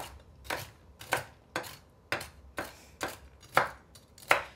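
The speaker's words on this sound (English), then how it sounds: "Just a rough chop. Just run your knife through them really quick." A knife rough-chops pecans on a board in about eight crisp, evenly spaced strokes that are quiet, close and separated by short pauses.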